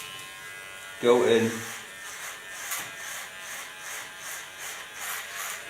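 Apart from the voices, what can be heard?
electric hair clipper cutting thick hair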